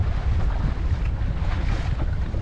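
Steady wind roars over open water around a Bass Cat bass boat while fishing in rough conditions, a dense low rumble of gusts and microphone buffeting with faint wave wash, continuous and close, no talking.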